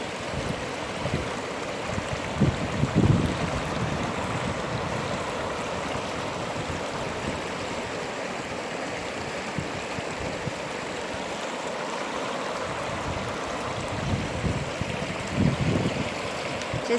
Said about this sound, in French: je vous retrouve sur le bord de la rivière que je vais vous montrer